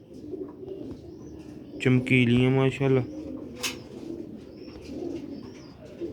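Sialkoti pigeons from long-kept stock coo in a loft, one clear rolling coo standing out near the middle over a steady background murmur, with someone speaking briefly.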